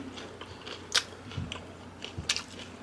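Quiet crunchy bites into a cheesy mozzarella Korean corn dog topped with ketchup, a few close crisp crunches spread over a soft chewing background.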